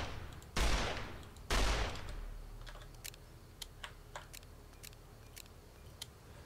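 M1895 revolver mod in Fallout New Vegas: two loud booming shots about a second apart, each with a short decaying tail, then quieter mechanical clicks of the gun being handled, no talking.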